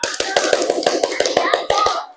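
A class of students claps in a crisp, evenly spaced rhythm, about a dozen sharp, close claps in quick succession that end abruptly into silence.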